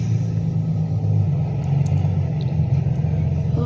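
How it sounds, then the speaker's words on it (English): A school bus arrives with a loud, steady low engine rumble close by, the deep drone holding evenly throughout with no voices. "Okay, here comes the other bus."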